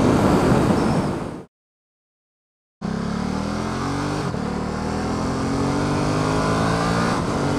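A Ducati Supersport motorcycle out on a shakedown ride after its first service, engine droning loud and close, then a short dead-silent gap before steady riding resumes with rising revs and wind rush.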